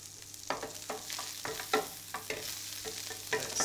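Fish and chorizo sizzle quietly in a hot pan, crackling continuously as they are stirred, giving regular scraping bursts roughly every half second.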